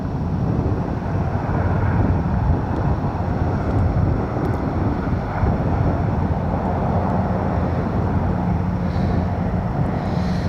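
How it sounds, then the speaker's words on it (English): Firefighting helicopters working a wildfire above North Bend, British Columbia, give off a steady, distant rotor and engine drone. It stays continuous under rough wind buffeting on the microphone, with no voices. "Sometimes these helicopters got to go in once and then kind of climb around the mountain and come back for favorable winds"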